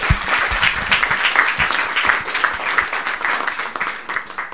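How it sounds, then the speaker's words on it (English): Audience applause after a presentation at a learning event, a dense, fairly loud patter of many hands clapping, steady throughout with slight swells. "Please join me in a round of applause."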